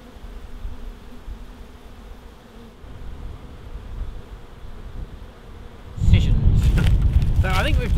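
A wild honey bee swarm hums as a steady low drone throughout, with a louder, closer burst of buzzing in the last two seconds and some faint voices underneath.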